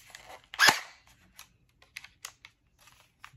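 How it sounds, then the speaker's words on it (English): A splatterball gel blaster toy pistol, Glock-style, fires one crisp, close snap, followed by a series of faint plastic clicks and handling taps. "This is a splatterball gun"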